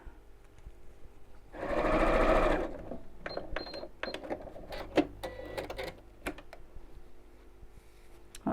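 A sewing machine runs in one loud sustained burst as it re-stitches the elastic channel of a child's backpack, followed by softer intermittent clicks and short whirs of fabric handling.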